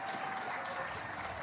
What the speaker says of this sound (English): Ladies and gentlemen, a big round of applause, please, for John F. Kennedy and George Washington.